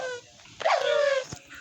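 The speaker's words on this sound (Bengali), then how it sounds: "অনেকগুলো ডগ।" Dogs in the Minecraft video game giving a short high whimpering yelp followed by a brief bark, close and clear, in a single burst lasting about a second.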